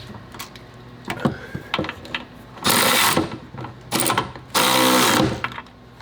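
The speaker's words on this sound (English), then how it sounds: "you're just going to finish tightening those down." A ratchet tightens the rear sway bar bolts on a Honda Ridgeline: a few quick clicks, then three louder, longer bursts of rapid ratcheting, close by with no talking.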